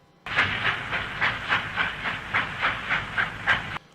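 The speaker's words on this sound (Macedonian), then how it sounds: "По промоцијата на Скопската железничка станица возот се упати кон Велес." A new Chinese-made passenger train pulls out of Skopje railway station, heading for Veles. Its wheels clack rhythmically over rail joints in an even, repeating beat, with a hissing wash over the top. It sounds close by.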